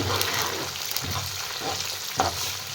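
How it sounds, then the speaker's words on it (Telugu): Cumin, mustard seeds and dried red chillies fry in hot oil for tamarind rice, giving a steady close crackling sizzle with a few brief stirring scrapes and no talk. "జీలకర్ర అందులోనే ఎండుమిర్చి కూడా వేసేసుకుందాం వేసుకొని బాగా ఫ్రై అవ్వద్దాం"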